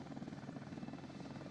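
A helicopter in the World Rescue video game keeps up a steady, even rotor drone with a low throbbing pulse, fairly loud throughout and with no talk over it.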